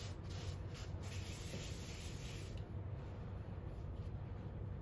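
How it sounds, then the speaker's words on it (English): Paper towel rubbing a light coat of seasoning oil onto a cast iron pan, a steady soft close-up wiping and scrubbing texture that continues without pause and with no talk. "You just lightly kind of grab the paper towel and get it in there."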